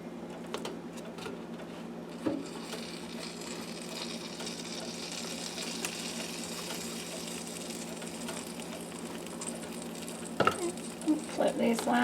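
Game-day snacks sizzling steadily in a frying pan, with a few sharp scrapes and clatters as pieces are flipped near the end.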